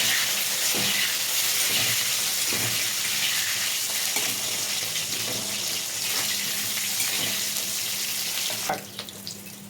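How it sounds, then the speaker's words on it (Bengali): Eggplant and pointed gourd fry in a pan for a mixed vegetable labra curry, giving a continuous close sizzle broken by repeated stirring taps and a clatter near the end. "বেগুনটা একটু ভাজা ভাজা করে নিই।"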